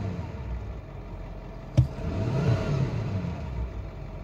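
A 2008–2010 Ford Power Stroke 6.4 diesel with a compression knock at the intake filter revs once after a sharp click, the engine note swelling briefly from a low idle, nearby and fairly quiet.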